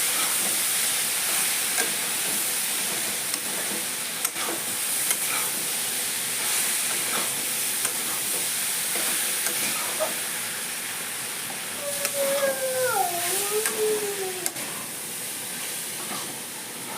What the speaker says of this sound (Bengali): জল করে শুকাই দিচ্ছি কিছুক্ষণ কষাবো সবজিতে